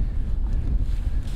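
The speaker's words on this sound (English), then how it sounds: "It is crazy windy today." Gusty wind buffeting the microphone on an outdoor long-range rifle range, a steady low rumbling roar throughout with no speech.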